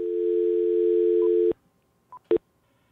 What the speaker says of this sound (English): What happens if you just dial 9-1?